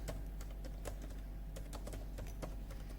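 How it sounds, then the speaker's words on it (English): Fingers tap on a computer keyboard in an irregular stream of quick, sharp key clicks, close and soft, with no voices over them. "I'm typing your question here"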